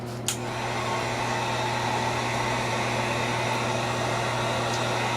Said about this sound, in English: Let me grab my heat gun here and give it a quick dry